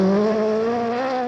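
A Peugeot rally car on a 1985 1000 Lakes Rally stage gives a loud, sustained high engine note held close for a brief moment.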